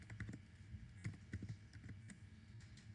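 Faint, quick clicks of fingers typing on a computer keyboard tap out irregular keystrokes for a few seconds, quiet and close with no talk.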